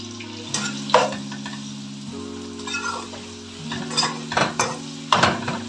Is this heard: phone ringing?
no